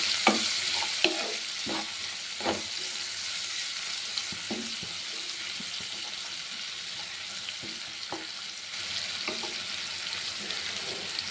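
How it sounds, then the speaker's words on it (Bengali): Chopped onions fry in oil in a home kitchen, a steady close sizzle broken by repeated sharp scrapes and taps as a spoon stirs the pan. "পেঁয়াজটাকে হালকা করে একটু ভেজে নিব।"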